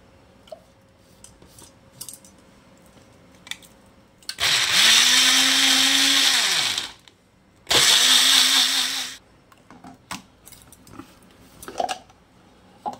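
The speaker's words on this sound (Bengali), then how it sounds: "তা সেই জন্য এই দানা সহকারেই আমি এটাকে রসটাকে বার করে নেব" An electric blender whirs loudly in two bursts, one of about three seconds and then a shorter one, as it purees watermelon flesh with its seeds into juice. Quiet pauses separate the bursts.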